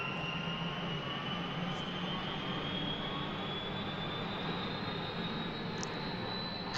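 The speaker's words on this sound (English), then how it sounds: "I'm just going to go ahead and press the starter on. And then immediately you'll start hearing the helicopter" A UH-1H Huey two-blade helicopter in Microsoft Flight Simulator spools up after the starter is pressed, a steady loud turbine whine and broad engine roar that holds constant without pause, with no talking.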